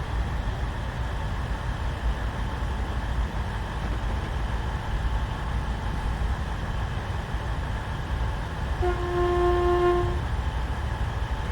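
In Train Simulator on the Chiltern Main Line, a train horn gives one steady tone lasting about a second and a half near the end, sounding over the continuous rumble of the moving train.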